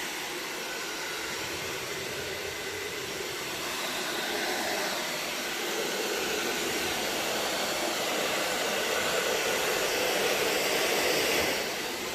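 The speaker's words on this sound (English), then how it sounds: "I do feel a lot more confident using my hairdryer." A steady, loud rush of blowing air from a hair dryer on high, used on an acrylic paint pour, runs throughout, broadband and unbroken, swelling slightly near the end.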